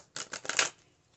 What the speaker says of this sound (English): so I'm just shuffling over here to the side